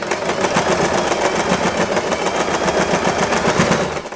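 A sewing machine stitches fabric for a double-layer bow, its needle hammering in a fast, steady rhythm for the whole stretch, close and fairly loud with no talking.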